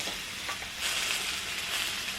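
Mushrooms fry in oil while a spatula pushes them around the pan, making a steady nearby sizzle with light scraping and no talking.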